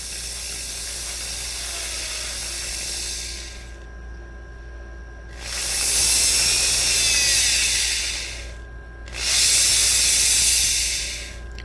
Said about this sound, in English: We're going to clear out these holes. Number 48 drill.